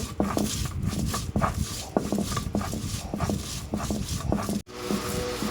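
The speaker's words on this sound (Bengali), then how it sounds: "এখন আমি ভেজে রাখা সুন্দরী শুটকিগুলো বেটে নেব" Fried dried Sundari shunti fish being ground on a grinding stone, with repeated rhythmic scraping and knocking strokes, close and fairly loud, with no talk.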